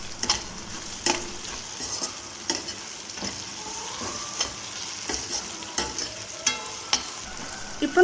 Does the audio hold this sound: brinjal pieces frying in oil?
yes